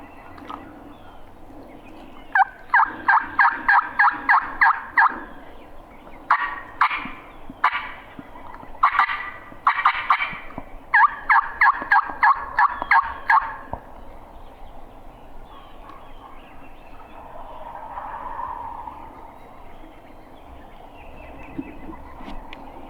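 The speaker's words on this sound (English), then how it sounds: "I think he's going to meet up with other gobblers." Wild turkeys gobbling outdoors, several bursts of rapid rattling gobbles in quick succession, moderately near, then fading away into quiet ambient background.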